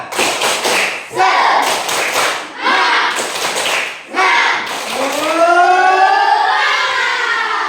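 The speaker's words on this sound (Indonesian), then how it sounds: "Tepuk semangat" A group of schoolchildren and adults in an Indonesian classroom perform a rhythmic spirit clap, loud bursts of patterned clapping in several rounds, ending with voices calling out together.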